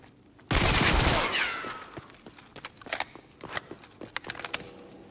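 A loud, close burst of rapid gunfire erupts in a video game for about a second, then fades into scattered clicks and lighter sharp hits.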